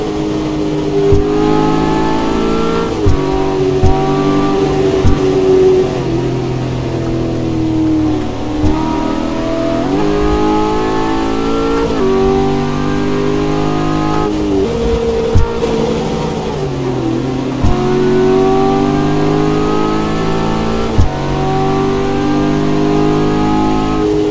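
A car engine in Assetto Corsa drones loud and steady, its pitch rising and dipping as the throttle shifts, with short knocks from gear changes, driving along FDR Drive in a steady cruise.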